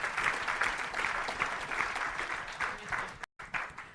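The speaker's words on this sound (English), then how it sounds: "Big round of applause." Audience applause closing the plenary session of a WASH conference, steady rhythmic clapping from a large hall, moderately distant, with a short dropout near the end.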